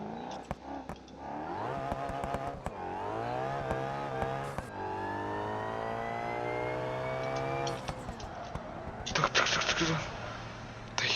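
A car drifting in BeamNG.drive, its engine whining and revving through long rising and falling sweeps, with tyre noise and a short clattering burst near the end.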